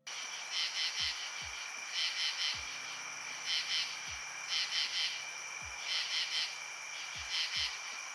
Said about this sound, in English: which when scraped across the hard edge of their other forewing, produces the classic Katydid sound.